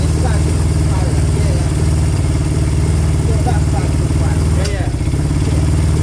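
A Honda CB200 motorcycle engine running close and loud just after new piston rings were fitted, a rough, uneven idle with misfiring stumbles and clatter while people talk nearby.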